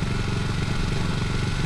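A Kawasaki W230 motorcycle engine runs steadily after a rough track, a close, continuous low thrum with a faint mechanical clatter and no talk over it.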